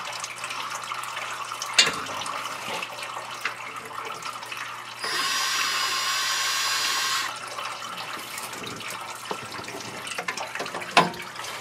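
Transmission fluid drains from the pan of a 2018 Chevrolet Silverado with an 8-speed transmission, a steady liquid pour that runs for a couple of seconds mid-clip against quiet shop background, with a few light clicks around it.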